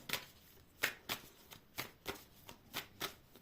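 Playing cards are shuffled and riffled about a dozen times in quick, regular bursts, close up, with quiet pauses between each crisp flutter.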